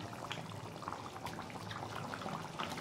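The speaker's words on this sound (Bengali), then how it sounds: "এবার আমি এর মধ্যে দিয়ে দেব ফুলকপির পকোড়াগুলো।" Fried cauliflower pakoras drop into gently boiling gravy in a pan, producing a faint, continuous bubbling simmer with soft wet splashes.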